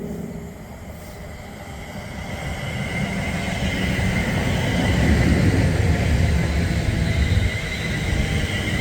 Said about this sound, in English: arriving now to 12:30, London North Western Railway service from Milton Keynes Central to London Euston, formed of a pair of 350s